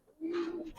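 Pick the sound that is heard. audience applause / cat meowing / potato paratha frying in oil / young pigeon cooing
young pigeon cooing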